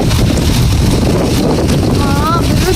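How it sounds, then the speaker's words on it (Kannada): Strong wind during rain in Bangalore buffets the microphone with a loud, continuous roaring rush, while a voice is faintly heard under the gusts. "ಗಾಳಿ"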